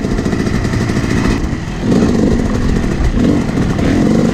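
A Yamaha YZ250 two-stroke dirt bike engine drones loudly and steadily on a sand motocross track, its raspy buzz rising and falling with throttle changes and no voices over it.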